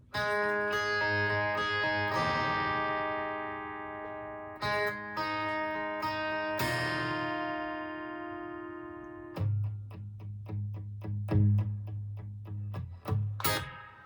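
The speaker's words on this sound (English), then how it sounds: "I've got my Fender 63 reverb, that Boss pedal" Electric guitar chords through a Fender '63 reverb and a Boss boost pedal ring out with a lush reverb tail, strummed in sustained bursts, then shorter choppy stabs toward the end.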